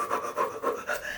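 A voice imitates an upset child's fast panting, with four quick rhythmic breaths close to the microphone, alone and fairly loud.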